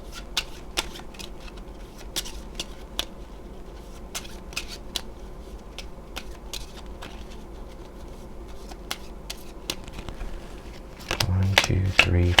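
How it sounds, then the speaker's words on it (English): Cards are shuffled for a board game in a steady run of soft riffling patter and quick flicks that continue throughout at close range, ending in a few louder handling knocks. "So we'll need to shuffle."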